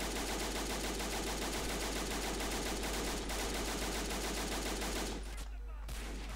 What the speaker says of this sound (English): Yeah, the machine gun's still in play.